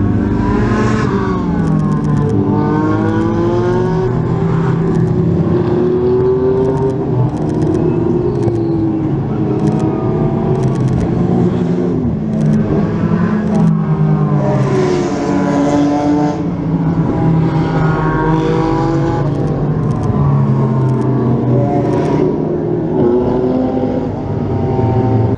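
GT race cars at the Barcelona circuit during a GT World event, a loud continuous stream of engines howling past, with several cars overlapping and pitch sweeping up and down as they accelerate and pass close by.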